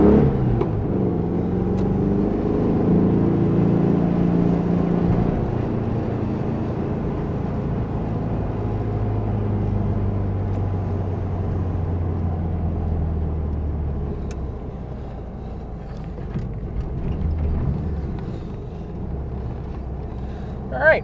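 A 1972 VW Super Beetle engine runs while the car is driven on a hill road, a close, droning hum whose pitch climbs and settles as it accelerates, with a truck passing.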